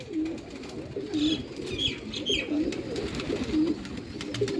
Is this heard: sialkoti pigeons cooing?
yes